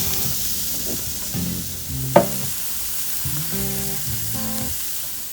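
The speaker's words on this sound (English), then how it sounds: "these are just going to cook until they get a little soft and they have the grill lines in them" Burgers and vegetables sizzle on a grill with a soft, steady frying hiss, a sharp click partway through and a faint hum in the background, no talking.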